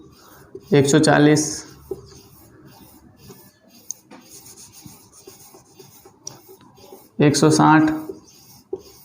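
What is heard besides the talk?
pen writing numbers of a multiplication table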